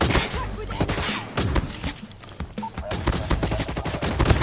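An R9-0 shotgun fires repeatedly in the mobile game Call of Duty Mobile, with loud, rapid blasts and punchy thuds coming in quick succession throughout.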